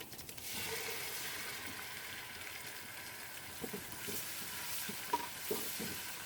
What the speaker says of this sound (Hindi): अब हम इसमें जो टमाटर और सब्ज़ मिर्ची हमने पीसी थी वो डाल देंगे।